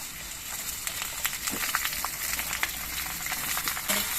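Ridge gourd pieces tipped into a pan where potatoes are already frying, giving a steady close crackling sizzle with scattered small pops throughout, no voices.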